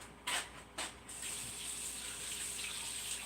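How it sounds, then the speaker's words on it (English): A kitchen tap runs as hands are washed, a steady rushing stream of water after a couple of brief splashy bursts at the start, close and fairly loud, with no talk. "let me go ahead and wash my hands"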